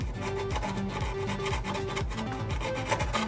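A file rasps quickly back and forth on the corner of a soft plastic dash for a New Bright 1/10 Ford Bronco RC hard body, a close, rhythmic scraping repeated in short, even strokes.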